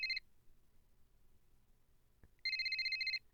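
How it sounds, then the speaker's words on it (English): A phone in the Bad Summer video game rings in two sharp electronic trilling bursts, a short one at the start and a longer one after a quiet gap, loud and close with no one speaking. "I shuddered when my phone rang. The sharp sound jolted me back to reality."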